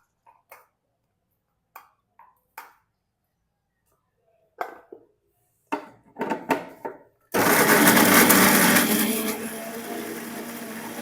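A kitchen mixer grinder pureeing tomatoes into a fine paste: a few soft clicks and taps as the jar is set up, then the motor bursts into a loud, steady whirring roar that holds to the end.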